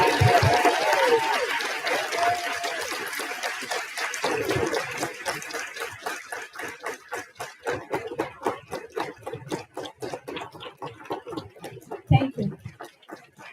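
An audience at a live opening ceremony applauds an award recipient, with dense clapping that thins into a steady, rhythmic beat of individual claps, a voice talking near the start.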